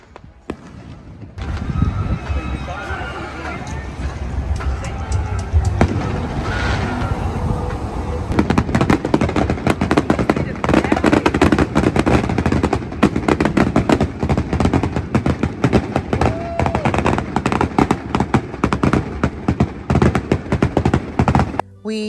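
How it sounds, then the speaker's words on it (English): Fireworks show at the Carolina Beach boardwalk on a summer night, a dense, continuous barrage of loud popping and crackling bursts with deep booms, mixed with crowd noise throughout. "every Thursday night, weather permitting, there is a fireworks show at 9 o'clock at the boardwalk"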